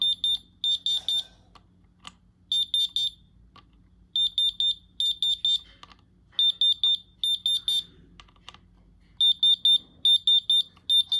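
A diamond tester checking the stones on an iced-out Patek Philippe watch emits high, rapid electronic beeps in repeated bursts of four or five, separated by short pauses and set against a faint low hum.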